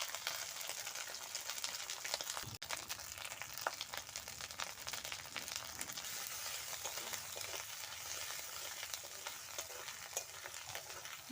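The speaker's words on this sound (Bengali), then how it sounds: "মশলাটা আমার ভাজা হয়ে গেছে" A paste of ginger and cumin with salt and turmeric fries in oil over a wood fire, giving a constant bright sizzle with occasional stirring scrapes and one sharp knock, close and low in volume, with no talk.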